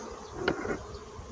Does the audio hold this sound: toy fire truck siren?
no